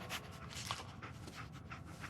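The dog Dogmeat in Fallout 4 panting steadily, quiet rhythmic breaths over faint game ambience, with no voices.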